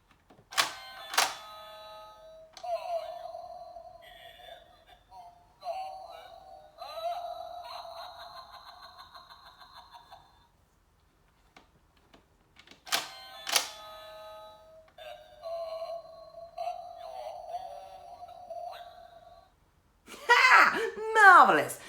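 A £4 Asda Halloween animated doorbell prop plays its spooky sayings in two short bursts with electronic ringing tones, fairly quiet with pauses between, and a voice talking at the end.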